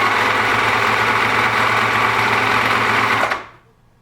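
A Husqvarna HuskyLock 901 serger runs steadily at close range with a dense, even mechanical whir for about three seconds, then winds down and cuts off into near silence.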